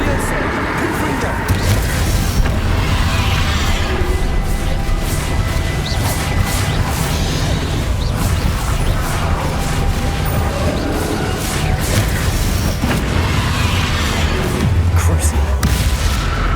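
Repeated Confringo fire-spell explosions in the video game Hogwarts Legacy, loud booming blasts and crashes layered densely over a constant battle din, with a voice talking across the scene.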